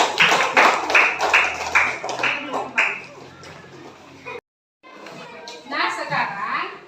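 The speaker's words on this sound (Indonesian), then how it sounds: "Ayo tepuk tangan." A school class claps hands in a lively burst of rapid claps that thins out, followed by a brief pause and then children talking.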